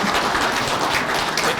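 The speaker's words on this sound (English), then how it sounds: "let's try and not do any applause or anything so we can kind of keep it going." Brief audience applause at a county board of commissioners meeting, a steady dense patter of clapping at moderate level with no speech.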